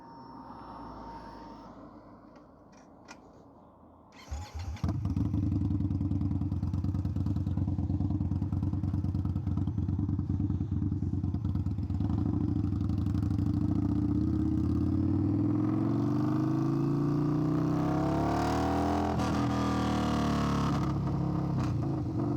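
Custom tuned Indian Scout Bobber motorcycle with a new exhaust, intake and tune, starting up and riding; a loud, steady engine drone with deep exhaust rumble and rising revs, no talking.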